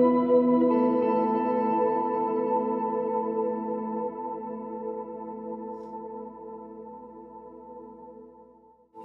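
A sustained electric guitar chord ringing out through delay pedals with layered repeats, slowly decaying over several seconds before a faint click at the end.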